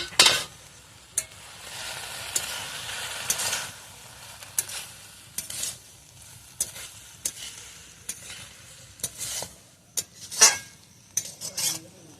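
Garlic and ginger paste being stirred into a pumpkin-stem curry in a pan, with repeated scraping strokes of a spoon against the metal over a soft sizzle, close and fairly quiet, with no voices.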